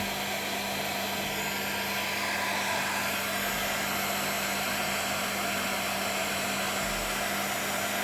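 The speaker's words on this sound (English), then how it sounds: "Let's use the heat gun on it and then just see" A heat gun blows on a phone case with a steady, unbroken whirring hiss, close and constant throughout, with no talk.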